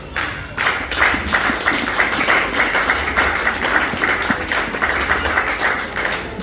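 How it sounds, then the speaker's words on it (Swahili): A church congregation at a revival service applauds, with dense, sustained clapping lasting several seconds and a lively crowd murmur underneath. "Inuka tupige Mungu makofi."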